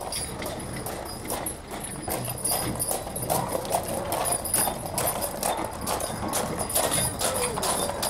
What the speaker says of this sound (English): offered to give us a ride out to their East Moor field in a horse-drawn wagon